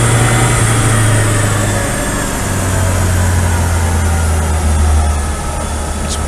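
A Citroen D Special engine runs at full throttle on a dyno, a loud, sustained low drone with a steady hum that shifts pitch slightly partway through, dense and unbroken throughout.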